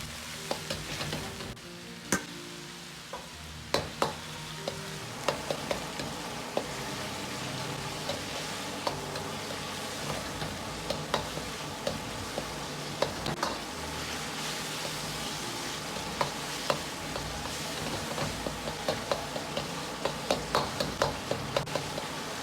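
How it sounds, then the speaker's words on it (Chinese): Lamb stir-fried with scallions and garlic in a wok over medium-low heat, a continuous close sizzle broken by frequent sharp clicks and scrapes of the spatula against the metal, with no talking. "保持中小火把羊肉煸炒至稍微断生，然后放入葱蒜，先煸炒出香味。"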